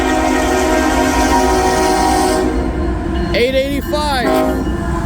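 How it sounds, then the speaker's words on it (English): A CSX loaded coal freight train led by a GEVO locomotive crawls past on a rainy day with a loud, steady rumble and clatter of cars, and a voice speaks briefly partway through. "Train really is going slow."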